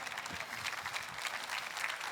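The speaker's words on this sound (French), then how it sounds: "Voulez-vous applaudir avec moi?" A church congregation claps together during a French-language sermon, a steady, diffuse patter of many hands filling the space at moderate, even loudness for a couple of seconds, with no voices standing out.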